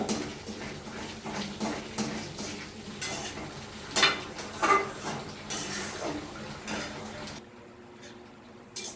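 Grated coconut simmers in sugar syrup in a pan over high heat, with a spatula scraping and knocking against the metal amid a soft bubbling sizzle, close; the noise drops away abruptly near the end.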